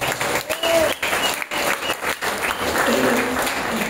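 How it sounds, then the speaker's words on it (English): Audience applauding to welcome a speaker at a leadership training event, loud close clapping with short pauses and some voices calling out over it. "Let's give him a big round of applause"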